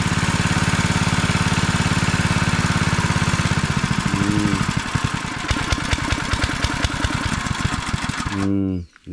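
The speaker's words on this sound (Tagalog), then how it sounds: "Ito yung makina niya." A small engine on a water pump runs loud and close beside a small stream, chugging steadily, then changes pitch before it cuts out abruptly near the end.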